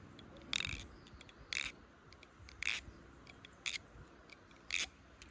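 A Tsunami reblade balisong butterfly knife, oiled and tightened, is flipped, giving five sharp, bright metallic clacks spaced about a second apart, close and fairly loud against a quiet background.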